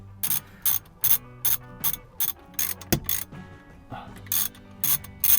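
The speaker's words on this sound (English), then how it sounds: "Now, I wouldn't actually recommend using a ratchet for this" A hand ratchet works on a fastener inside the interior of a Mercedes C63 AMG, clicking in short, regular bursts of sharp ratcheting strokes close by with brief pauses, plus a single louder knock partway through.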